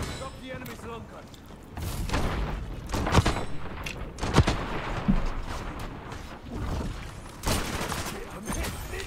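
Rapid gunfire bursts crackle through a Black Ops 6 match, with several sharp shots and booms standing out over a dense, continuous din of battle noise and game sound.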